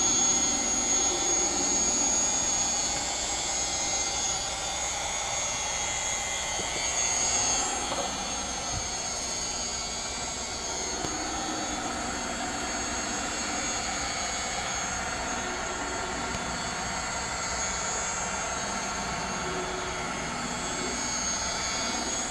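LC Power Tools UDOS polisher running in rotary mode at speed 1, about 1,000 RPM, at a live detailing event: a steady, even whine that holds for over twenty seconds with no talking.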